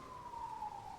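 Police sirens wail as one faint, steady tone drifting slightly lower, heard briefly and at a distance.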